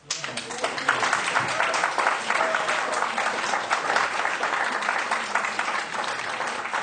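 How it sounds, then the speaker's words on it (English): An audience at a lecture session breaks into sustained applause, a dense wash of many hands clapping together at moderate loudness for several seconds. "Let's give him a clap."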